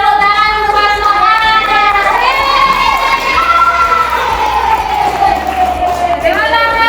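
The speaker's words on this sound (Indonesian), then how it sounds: "Tepuk tangan untuk pasangan." A crowd of schoolchildren in a classroom cheers and shouts loudly and continuously, with high excited voices rising and falling together.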